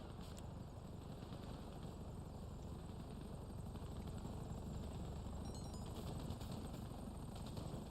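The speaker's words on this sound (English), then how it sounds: "These helicopters, this is ridiculous." Helicopters in the GTA Online video game drone faintly and continuously in the distance, with scattered bursts of gunfire mixed into the steady rotor noise.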